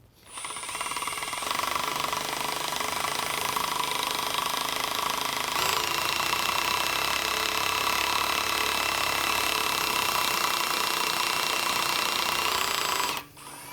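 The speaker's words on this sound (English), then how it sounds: "As we drill through the steel, each step gets progressively wider and wider, and we open up our hole." A step drill bit bores through steel with a continuous loud grinding whine that holds steady for about twelve seconds, shifts slightly partway through as it moves up a step, then stops abruptly.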